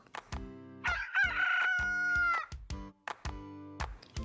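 A rooster crows once in a long drawn-out call, set against a plinking rhythmic music track.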